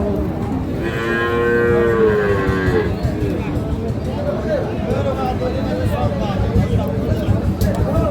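At a market selling medium-sized farm-raised bulls, one bull lets out a long, loud moo up close, while crowd chatter and nearby talk continue throughout.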